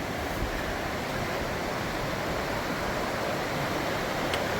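A river rushes beside rocks along the Appalachian Trail in Tennessee, a steady, close, broadband roar of flowing water with no pauses, filling the whole stretch at an even level.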